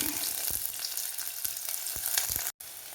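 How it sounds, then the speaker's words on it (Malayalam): Chopped onion fries in hot oil in a clay pot, giving a loud, continuous close-up sizzle with faint crackles throughout and no talk. "ഉള്ളി ഇട്ട് കൊടുക്കാം"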